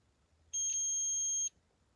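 A multimeter continuity beep from electrical checks on a light bulb circuit aboard a sailing boat: one steady high-pitched tone lasting about a second, loud and close, with a quiet background before and after.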